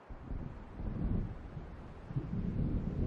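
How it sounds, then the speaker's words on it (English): Thunder from a storm approaching in Alan Wake Remastered rolls as a deep, continuous rumble with surging low swells and a muffled windy texture. "It seems there's a storm coming."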